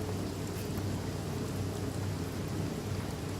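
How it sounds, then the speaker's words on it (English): Steady rain falling in the Divinity: Original Sin video game, a dense, even hiss with a low rumbling undertone, continuous and moderately loud with no talking. "Well, it is raining, so I guess."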